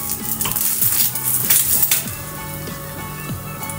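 Egg frying and being flipped in a pan for a breakfast sandwich, a steady close sizzle with scraping and clinking of a utensil against the pan, no voices.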